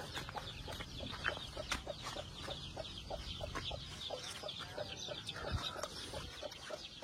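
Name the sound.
Peruvidai roosters and hens clucking on a farm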